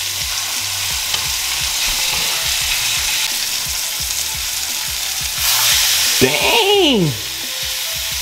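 Salmon searing in a hot pan, a loud, steady close sizzle throughout, swelling toward the end with a few sharp spatters and a brief exclamation from a voice.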